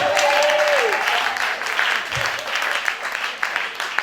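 A Sunday church congregation breaks into loud, sustained applause to acclaim Jesus. Steady clapping fills the room and a voice briefly rises over it at the start.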